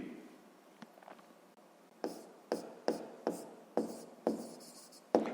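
Pen writing on paper while working a sixth-grade maths exercise: a quiet, close series of short scratchy strokes, about a handful of distinct scrapes in a loose rhythm after a soft start, with no talking.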